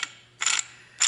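Metallic scraping hum from a worn tensioner pulley on a Chevy Express 1500 engine, heard as two grinding bursts over a faint steady drone, close and fairly quiet.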